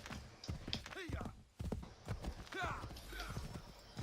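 A horse's hooves clop in a quick, steady rhythm while riding in Assassin's Creed 3, running beneath a person talking over the gameplay.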